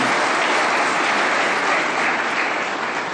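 An audience at a talk on funding public universities claps in a dense, even wash of applause that holds steady at a constant level for a few seconds.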